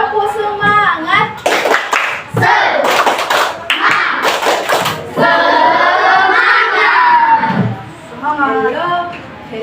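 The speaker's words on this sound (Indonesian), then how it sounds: "Coba diulang lagi. Tepuk semangat." Classroom children performing a rhythmic spirit clap, bursts of sharp patterned hand claps alternating with their voices chanting and singing along, loud and close.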